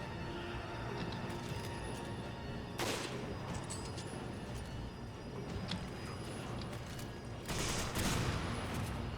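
Gunfire aimed at an enemy wearing grenades on its chest in a Resident Evil video game, quiet sharp shots in a few bursts under a low rumbling background, with no voices.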